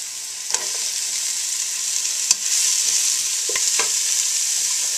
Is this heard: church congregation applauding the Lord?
no